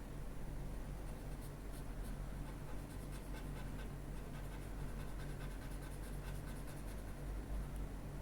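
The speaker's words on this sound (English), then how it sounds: "then I use the pencil" A graphite pencil scratches steadily across paper while drawing a baby's clothes and hair, a close, continuous dry rasp with a low background hum.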